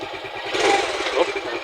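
A Suzuki Smash 115 motorcycle engine idles nearby after a push-button start, with a low, steady pulsing throb beneath a person talking throughout the short moment.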